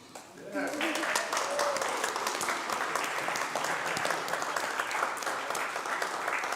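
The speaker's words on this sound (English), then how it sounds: "How about a round of applause?" A church congregation applauds during a Sunday service, a full, steady round of clapping that swells quickly and carries on at even strength, with a voice briefly heard at the very start.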